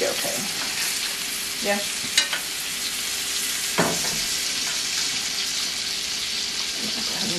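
Steak and garlic sizzle in a frying pan with a continuous crackling hiss, broken by a few brief clatters of stirring and utensils. A voice speaks briefly.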